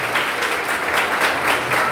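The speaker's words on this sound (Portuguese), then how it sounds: "Uma salva de palmas." A church congregation applauds at a pastor's installation service, a loud, sustained roomful of clapping that swells and continues evenly without pause.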